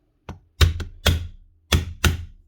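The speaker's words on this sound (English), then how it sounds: "All you need is a hammer." Hammer tapping out pins on a Paslode IM350+ nail gun, five sharp, close metallic knocks in an uneven rhythm with short pauses and no talking.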